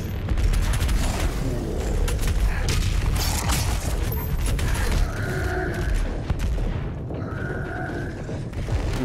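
Shotgun blasts in Doom Eternal crack out amid heavy mechanical clanks and booming combat noise, loud and close, with several sharp shots scattered across a dense, continuous din.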